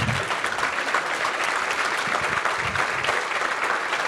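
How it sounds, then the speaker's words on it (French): A crowd at a live tech meetup breaks into sustained applause, many hands clapping in a thick, steady wash that stays level throughout, with no voices rising above it. "Applaudissez-les."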